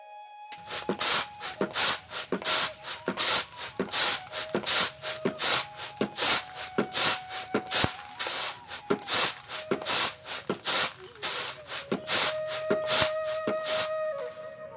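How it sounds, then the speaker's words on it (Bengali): Home-grown paddy rice is rinsed and drained by hand, with close, rhythmic swishing and rattling pulses repeating about twice a second and continuing steadily throughout. "মা এবারে চাল ঝরে নিচ্ছে, সকালে রান্না হবে।"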